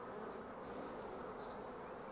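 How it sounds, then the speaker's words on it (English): Dense, steady buzzing of many honeybees swarming around an open hive during an inspection, a close, continuous drone with no voices. "There's a lot of bees in here."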